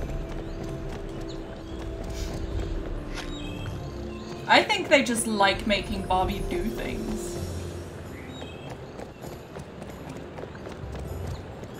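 Horse hooves clip-clop at a walk in Barbie Horse Adventures: Wild Horse Adventures, a soft rhythmic patter under game ambience, with a player talking clearly over it partway through.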